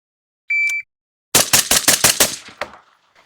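Rapid burst of rifle fire from an MK18 SBR or A3 Tactical Triad bullpup, about seven sharp close shots in quick rhythm after a short electronic beep, with a final trailing shot and ringing decay.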